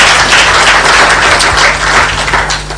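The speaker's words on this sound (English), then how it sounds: "A clap for him." An audience at a Pan-African green climate conference gives a speaker a loud, dense and steady round of applause, close and continuous throughout.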